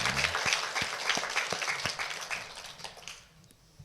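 A church congregation at a Sunday morning service claps together in thanks, with brisk, even applause that slowly thins and trails off near the end.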